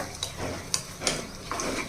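Tempering spices such as cumin fry in a pan for dal, with a soft sizzle beneath a few sharp clinks of a utensil against the metal pan.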